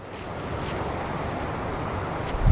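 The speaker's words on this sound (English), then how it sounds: "If you listen carefully, you can hear the waves crashing against the" A constant wash of surf and wind outdoors on the Scottish coast near Clachtoll, waves crashing against rocks and rumbling steadily in the distance with a heavier surge near the end.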